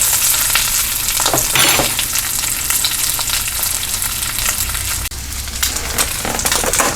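Pork chops browning in a pressure cooker pot, a loud, dense sizzle and spattering crackle, with a brief dip and shift partway through, no talk.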